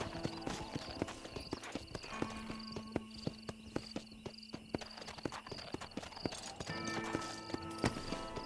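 Horse hooves clip-clop in steady rhythmic steps in the Red Dead Redemption video game, close and clear, with an occasional whinny and game sounds around them.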